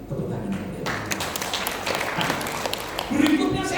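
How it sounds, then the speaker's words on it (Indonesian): A church congregation at a ministry service breaks into applause, a moderate wash of clapping mixed with voices and cheers, swelling slightly near the end. "Tepuk tangan."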